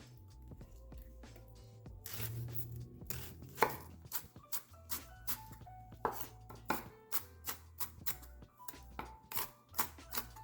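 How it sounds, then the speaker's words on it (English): A knife dices onions on a cutting board with sharp, close chops, sparse at first and then settling into a quick, even rhythm of regular strikes. "Next, we're going to dice some onions."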